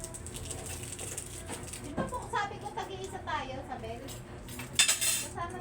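A metal spoon clinks and scrapes against a pot while food is stirred at home, with soft irregular taps under quiet conversation.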